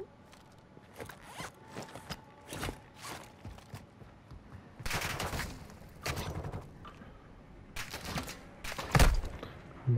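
Gunfire in the video game Modern Warfare 2 DMZ, with bursts of shots and sharp cracks scattered through the clip, a sustained heavy volley mid-clip and louder impacts near the end, alone without talk.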